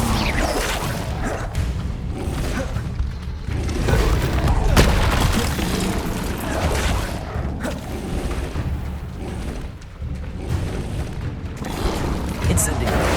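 Incendio fire spell cast in the video game Hogwarts Legacy, a dense, loud whooshing burst of flame layered over rumbling booms and combat effects, sustained for several seconds.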